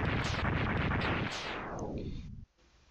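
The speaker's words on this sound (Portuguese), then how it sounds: "foge que tá explodindo tudo" Explosions from the Mega Man X2 video game, a loud dense rumbling barrage of blasts that tails off into a fading roar and cuts out near the end, with no talking.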